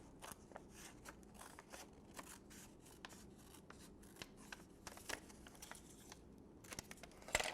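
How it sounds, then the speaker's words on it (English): Scissors snip a slit through paper for a children's Mother's Day craft, a quiet run of short, crisp cuts with small crackles, close by and with no talking. "going to put our scissors between there, and we're just going to cut that slit forward"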